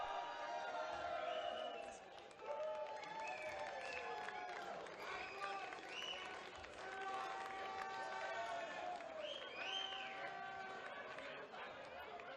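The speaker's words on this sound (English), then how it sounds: "the crowd in attendance is still happy with everything that's going on" Crowd at the 2018 Gridiron West men's championship gridiron football game between the Rockingham Vipers and Swan City Titans, a steady murmur of chatter and scattered shouts from spectators, fairly faint and distant throughout.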